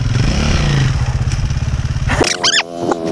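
A KTM enduro motorcycle engine runs with a loud, close putter that chugs and then cuts out, followed by clattering and scraping on an outdoor trail.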